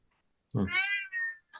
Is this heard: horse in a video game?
no